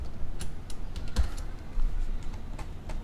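Typing on a computer keyboard while laying out a mobile interface design, with a quick run of close, crisp key clicks at a steady pace and no talking.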